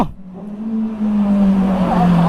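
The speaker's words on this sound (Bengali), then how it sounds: "বাইকের সাউন্ড শুনো" Engine of a sport motorcycle at a drag race gathering revving loudly and close, a sustained droning roar that rises gradually in pitch, with no talk.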